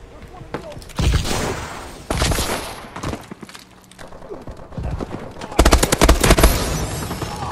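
Rapid bursts of automatic gunfire in Call of Duty Advanced Warfare, loud and close, fired in several volleys with short pauses between them, along with game effects and a player talking.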